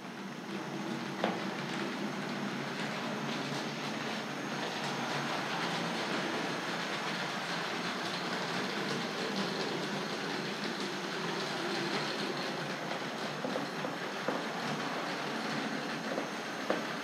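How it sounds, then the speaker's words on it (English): A Tri-ang Railways R.50 Princess Victoria model steam locomotive runs along its track with a steady, close whirring rumble and faint rhythmic clicks that continue evenly throughout. "It's lovely to operate this locomotive."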